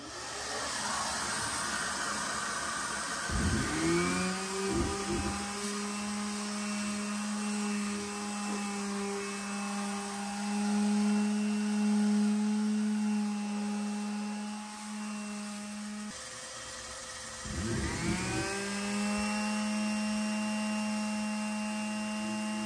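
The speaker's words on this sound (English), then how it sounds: "cue the sanding and vacuuming music" A loud electric motor spins up and runs steadily with a whining drone, shuts off, then starts again, as a sander and vacuum work on wooden stairs.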